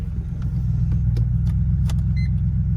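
A four-wheel-drive vehicle engine idles with a deep, steady rumble, with a few faint clicks and rattles over the top.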